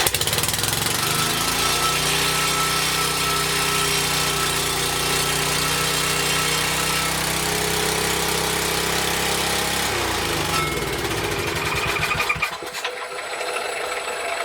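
A small mini bike engine runs at a high idle, a steady close buzzing drone with slight wavering in pitch that breaks up and cuts off near the end, no voices.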